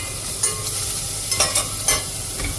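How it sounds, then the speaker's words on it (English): Bacon frying in butter in a saucepan, a steady close sizzle and crackle with a few sharper pops and spits, no voices. "I'm going to add a bit of butter to it, turn it on, and get the bacon frying up."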